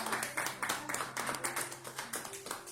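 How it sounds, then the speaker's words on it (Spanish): A church congregation claps during worship, with a rhythmic pattern of fairly even claps that sound moderately close, while faint tones sustain underneath. "Dale un fuerte aplauso al Señor."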